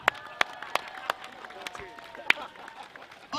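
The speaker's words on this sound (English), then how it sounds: "Folks, round of applause" Audience clapping at an outdoor Festpac 2016 Māori haka performance in Dededo, with sharp separate claps scattered over a few seconds beneath crowd noise and a faint voice.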